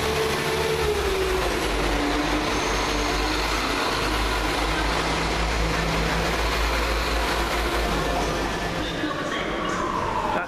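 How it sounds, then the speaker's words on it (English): A London Midland passenger train, a Class 172 unit on a Stourbridge Junction to Whitlock's End service, approaches with a loud, steady rail roar and rumble. Wheels grind and squeal faintly throughout, and no one talks over it. "That train there, here it comes,"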